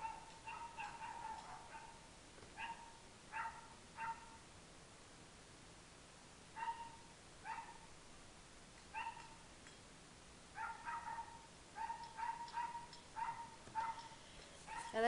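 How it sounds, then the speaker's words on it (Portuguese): A dog, a female, barks in short bursts indoors, some single and some in quick clusters, fairly faint and distant against a quiet room background with no talking. "minha cachorra tá latindo"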